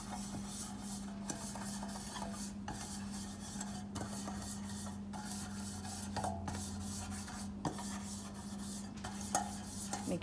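Greased muffin tin being rubbed around its cups, giving a continuous soft scraping and rubbing close up with faint metallic ticks, over a steady low hum and no talking.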